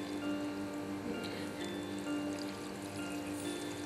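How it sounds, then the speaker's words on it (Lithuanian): Water poured into a tray of tomato seedlings on a windowsill, a soft continuous trickle and splash, steady and fairly quiet with faint background hum. "Pripylėme vandenuko"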